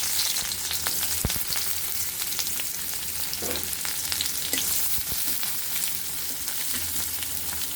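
Chopped onions fry in white oil in a wok, a dense, even sizzle that holds steady throughout, with occasional spatula knocks and stirring clicks and no talk.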